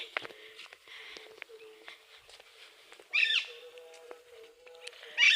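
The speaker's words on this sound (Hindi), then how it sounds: "देखो चिड़ियों की चंचाहट है" Small birds chirp and twitter at a distance at dusk in an Indian village, with a couple of louder bursts of calls standing out from a quiet background.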